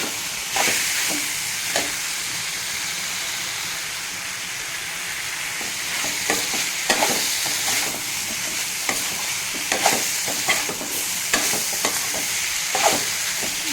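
Grated coconut being stirred into a red pumpkin stir-fry in a pan, with a steady low sizzle under repeated scraping strokes of the spoon, sharper clacks arriving every second or two near the microphone.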